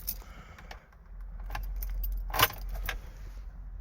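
Keys jangle and rattle as a key slides into the ignition of a Triumph Stag, a sharp metallic cluster standing out near the middle over a low, steady background rumble in a garage.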